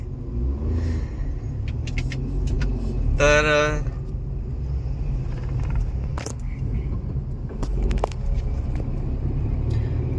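A car drives along a road at night after a wedding event, giving a low, steady engine and road rumble close inside the cabin, with brief clicks and a short tonal beep over it.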